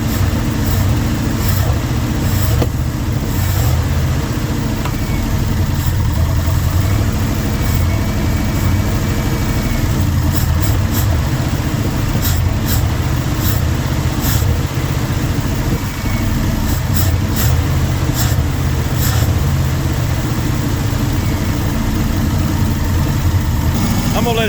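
1971 Ford F100 pickup with an FE 360 V8, abandoned for 39 years, idling as it warms up, with a steady, loud rumbling idle running close by throughout and occasional ticking from the valvetrain.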